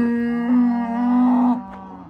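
Loud, drawn-out mooing from calves, one long call after another close by, with no talking.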